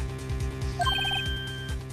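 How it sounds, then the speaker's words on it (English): A modern phone ringtone plays in a detective video game, a short bright melodic chime of quick repeated notes over a steady low rhythmic background music loop, heard fairly faintly with no talk. "I heard a phone ring just now. One of those newfangled ringtones."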